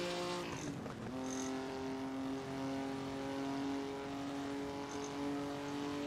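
A Ferrari Testarossa cruises along the Shutoko Expressway in a driving game, its engine holding a steady, droning tone close up, with a brief shift in pitch near the start and no talk.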